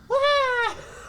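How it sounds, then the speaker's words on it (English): A single drawn-out, nasal wailing bird call, loud and close, rising then falling over about half a second before trailing off into quiet. "Oh yeah, it's a peacock."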